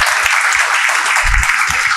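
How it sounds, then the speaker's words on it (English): An audience at a talk by a civil-service ranker gives loud, close applause, dense and continuous clapping throughout with occasional low thumps underneath. "A big round of applause for Akanksha Jha."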